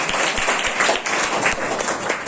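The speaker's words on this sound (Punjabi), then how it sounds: "ਤਾੜੀਆਂ ਬੱਚੇ ਲਈ" Audience at a school lecture on environmental protection breaks into dense, continuous applause for a child who answered a question. The clapping is loud and sustained, with no pause for two seconds.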